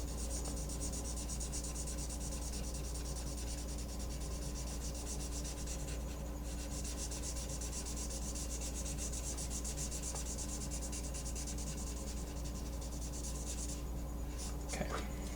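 A graphite pencil shades on paper while drawing teeth, producing a steady close scratching and rubbing that continues throughout with faint background noise.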